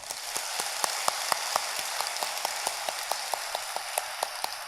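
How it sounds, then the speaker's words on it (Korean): A small congregation at a Buddhist dharma talk gives a round of applause, producing sparse, distinct claps that are quiet and evenly scattered with no talking over them. "우리 이분들을 위해서 축원의 박수 한번 치시죠."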